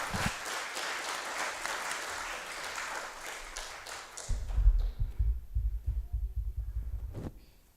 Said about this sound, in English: Maybe with a big round of applause.